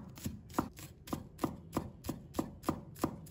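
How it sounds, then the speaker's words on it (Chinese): Knife chopping white scallion pieces on a cutting board, a steady run of about ten crisp, evenly spaced close thuds with no talking. "把葱白切成小粒"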